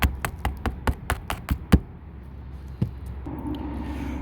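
A run of about nine quick, evenly spaced taps on lead roof flashing during a plumbing flashing install, close and fairly loud, followed by a single later tap and then quiet background.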